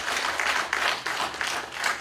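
An audience at a hosted cultural talk applauds briefly, a moderately loud, even wash of many hands clapping at once.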